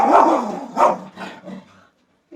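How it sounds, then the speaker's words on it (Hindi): A dog barks close by, three or four sharp barks in quick succession, then quiet. "यार कुत्ते, तुम्हें सब अभी भौंकना है, अभी भौंक लो तुम"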